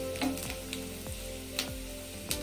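Cashews frying in hot oil in a pan and stirred now and then, a steady sizzle with a low hum beneath and a few light scraping knocks, close and without voices.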